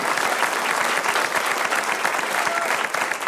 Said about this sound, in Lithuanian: Plojimai Laurai.